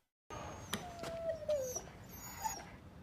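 A puppy whimpers and yips in a few short, high, wavering cries, close by and moderately loud, over a quiet room background with no talking.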